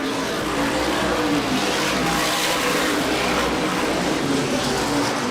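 Stock race cars at Star Speedway in Epping roar past in a dense, loud, continuous wash of engine noise, the pack's drone swelling and fading slightly.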